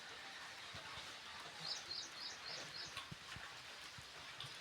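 Soft, steady patter of light rain, with faint bird chirps in the background.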